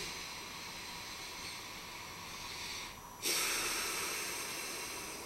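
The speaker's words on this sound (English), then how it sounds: "Take a deep breath." One long, deep inhale followed by a louder, breathy exhale rushing out, close and alone with no talking, at the end of a calm guided meditation.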